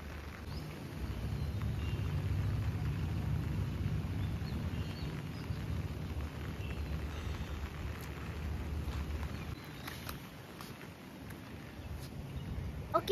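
Steady rain falls outdoors on a rainy day as a continuous broadband hiss of moderate loudness, with a few brief sharper spatters near the end and no voices.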